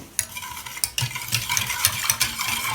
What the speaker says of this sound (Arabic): وغادي نحرك مزيان